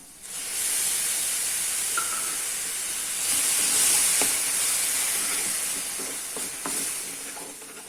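Loud, continuous sizzling hiss of tomato paste frying in a hot pan for egg curry, with a few faint clinks near the end.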